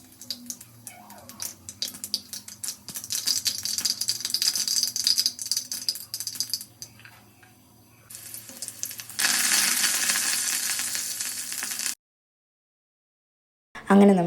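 Mustard seeds splutter and pop in hot oil in a frying pan: dense close crackling that pauses, returns as a louder steady sizzle, then cuts to silence.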